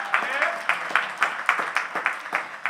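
Scattered, rhythmic clapping from an audience at a Martin Luther King Jr. Day public policy forum, a handful of hands beating in uneven pulses at moderate loudness.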